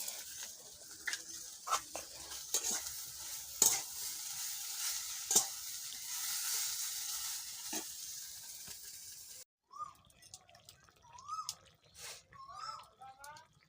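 Soybean curry with spices being stirred in a frying pan, a soft sizzle with scraping spoon strokes, then quiet clinks and dripping after the sizzle drops away.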